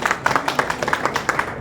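An audience at a memorial meeting claps together in a steady burst of applause, many hands striking in a brisk, even rhythm, close and fairly loud.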